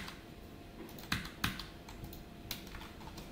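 Keys clack on a computer keyboard while code is typed, a sparse irregular run of soft taps with a few sharper strikes, close and quiet, with no voice.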